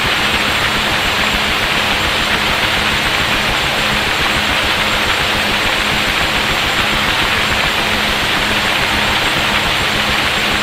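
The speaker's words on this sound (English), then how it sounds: "Let's now run up the engine to monitor power." UH-1 Huey helicopter turbine running in the DCS flight simulator, a steady loud broadband whine and rush with a faint high tone, unchanging for the whole stretch with no talk.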